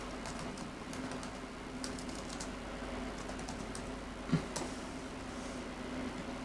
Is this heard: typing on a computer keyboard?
yes